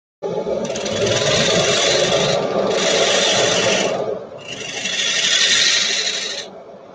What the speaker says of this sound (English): Switch to the carbide scraper.